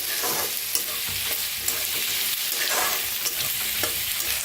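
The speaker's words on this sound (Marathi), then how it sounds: "कांदा भाजायला लागलाय आपला चांगला" Spring onion greens fry in a pan with a steady hiss and sizzle, and scattered clinks and scrapes of stirring come through the first few seconds. The sound is close and even, with no voice over it.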